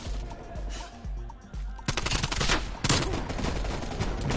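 Suppressed gunfire in Call of Duty Cold War, a few muffled thuds early on, then a dense stretch of rapid shots and impacts that runs loud and continuous to the end.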